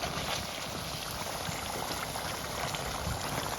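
Fish curry masala with ghuinsa pond fish and ash gourd boiling steadily in a pot, a continuous close bubbling and seething hiss with no speech, ending in a brief knock.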